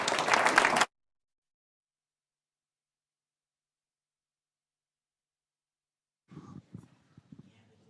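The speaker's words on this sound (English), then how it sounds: "let's give them a hand" An audience at a business innovation semi-final pitch event claps in a brief, dense burst that cuts off abruptly. A long silence follows, then faint scattered steps or knocks.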